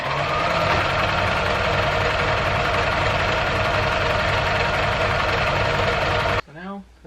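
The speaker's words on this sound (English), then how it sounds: "I think I am going to use a zigzag stitch, just so that it's nice and stretchier." A sewing machine runs zigzag stitches down the sides of a swim skirt, a steady dense whirring hum lasting about six seconds before stopping abruptly, followed by a brief faint sound.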